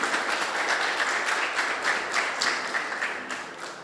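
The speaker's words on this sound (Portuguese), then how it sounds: "Vamos aplaudir a Jesus?" A church congregation applauding, even and sustained clapping heard at moderate volume, tapering slightly toward the end.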